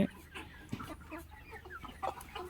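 Chickens on a poultry farm cluck in short, scattered calls at a moderate distance over a quiet background.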